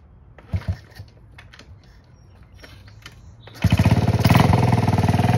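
A 1969 Honda Z50 minibike is cranked over with choke, giving irregular mechanical clatter before the small engine catches and runs with a loud, rapid, steady putter for the final seconds.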